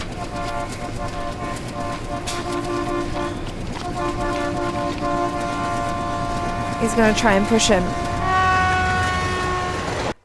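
A train in an Indian Tamil film rumbles along with a steady rattle, and a loud horn sounds out over it, while a reaction viewer speaks over the soundtrack.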